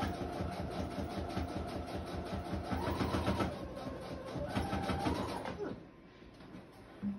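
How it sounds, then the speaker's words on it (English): Sewing machine stitching through layers of a handmade journal, a fast rapid-fire mechanical chatter running steadily and close for several seconds before cutting off, followed by quiet room tone. "I'm gonna sew this real quick, just super duper quick"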